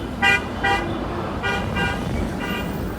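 A car horn honks repeatedly in traffic: five short toots in pairs, fairly loud over steady road and engine noise, with no talking.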